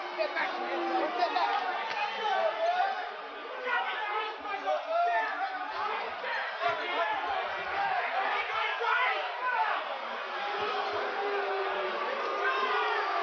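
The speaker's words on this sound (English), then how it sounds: "you hear the crowd start to boo" Boxing crowd at a Mike Tyson heavyweight fight reacting with steady, loud mass voices that rise and fall for the whole stretch, booing and chatter blended into one dense roar.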